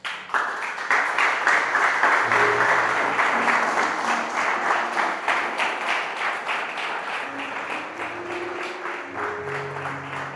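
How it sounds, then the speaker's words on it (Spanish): A church congregation gives an applause to God, a sustained crowd of clapping hands that peaks early and slowly eases, with faint voices and low tones murmuring underneath. "¿Qué tal si le das un aplauso a Dios?"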